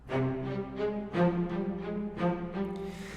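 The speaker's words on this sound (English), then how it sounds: "I have a string patch here pulled up." Sustained string section playing a repeating rhythmic figure, swelling chords that re-attack about every second in a steady, looping pattern, with nobody speaking.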